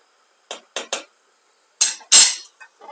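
A metal anti-splatter cover set down over a pan of frying potato halves: a few separate light clinks and clatters, then two louder scraping metallic contacts, close by with no talk.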